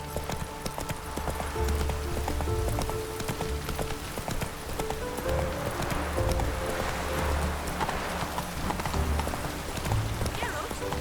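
The horse Roach trots through Witcher 3: Wild Hunt, its hooves clip-clopping in a steady, close, even rhythm that runs the whole time over a soft ambient bed.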